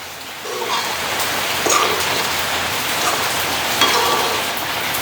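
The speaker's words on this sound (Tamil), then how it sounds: "இந்த சோஸ் எல்லாம் விட்டு எங்களுக்கு கொதிச்சு கொண்டு இருக்குது பாருங்க" Soya meat curry with chili sauce boiling in a pan, a steady dense bubbling hiss like rain on a surface, continuous and close with no voices.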